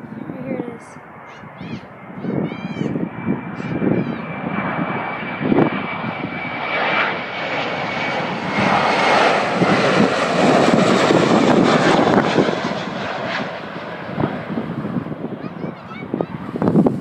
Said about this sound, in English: Another airplane is coming right there.